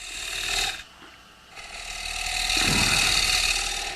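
A parting tool cuts into spinning wood on a lathe while turning a rosette, giving a steady scraping, rasping whine that briefly eases and then builds again, close and continuous with no voices.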